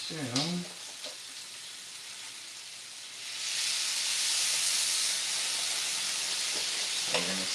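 Food frying in a pan gives a steady, broad sizzle that grows louder and hisses more strongly partway through, with a brief voice at the start and end.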